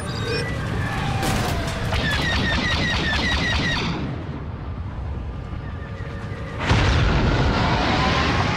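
Torpedo explosions boom during a Star Wars Battlefront II starfighter battle at Endor, mixed with rapid blaster fire. A loud, heavy blast hits near the end above the ongoing space-combat din.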